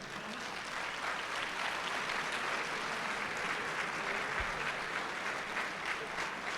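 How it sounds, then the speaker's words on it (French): An audience at a university inaugural ceremony applauds the agrégation laureates, a long, even roar of clapping from a large, somewhat distant crowd that holds steady throughout. "Voilà, il faut les applaudir"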